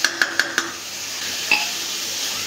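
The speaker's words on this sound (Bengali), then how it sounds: "এখন সবজিটা মশলার সাথে ভালো করে কষাই নিব।" Potato, cauliflower and long beans frying with spices in a pan, with four quick metallic spatula taps against the pan, a clink, then a steady soft sizzle, close and clear with no talking.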